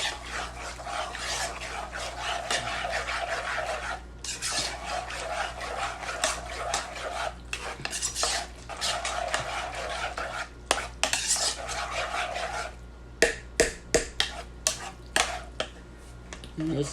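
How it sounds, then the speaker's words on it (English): A spoon scrapes and stirs hot macaroni and cheese with milk in a pot, producing continuous close rubbing and clinking, with short pauses and sharper metal taps toward the end. "you want to get all that stirred up while it's still hot"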